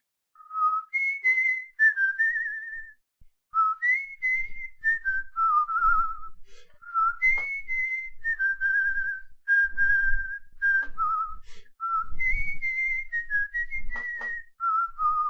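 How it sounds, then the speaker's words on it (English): A person whistles a wandering melody in short phrases with brief pauses, clear and close, sliding between middle and high notes with no talk. "That's clearly just whistling."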